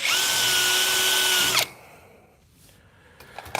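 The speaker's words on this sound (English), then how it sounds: "So I'm just gonna drill through these." A power drill whines loudly for about a second and a half while drilling through custom VW taillight parts, then stops abruptly, followed by quiet room noise and a few small clicks.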